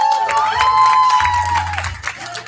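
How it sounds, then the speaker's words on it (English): An audience at a company awards townhall applauds and cheers, with clapping and a few whoops under a loud, steady tone, fading slightly toward the end. "Let's give a big round of applause of this."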